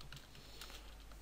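Faint quick keystrokes on a computer keyboard during a Unity C# coding session, a short soft run of clicks with no voice over them.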